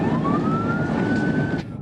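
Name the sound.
police car siren in news report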